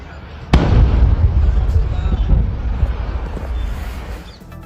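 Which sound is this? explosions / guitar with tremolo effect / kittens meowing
explosions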